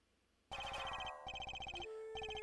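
Bells ringing in the Ace Attorney Investigations 2 video game, announcing the blind butcher: bright repeated chiming tones start sharply after a short quiet lead-in and ring on in rapid bursts, alone without talk.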